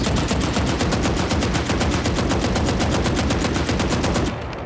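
Sustained automatic rifle fire from the Valorant video game, a loud, rapid, evenly spaced string of shots held down for about four seconds before stopping abruptly, with no talking.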